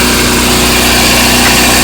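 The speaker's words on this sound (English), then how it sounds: "It's currently running. So open the generator." A portable generator engine runs loud and close with its housing open, a steady droning hum with no pauses.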